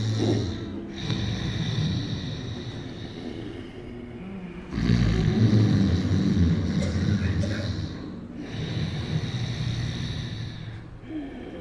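A voice makes long, rumbling snore-like sounds in three drawn-out bouts, close and fairly loud, imitating snoring.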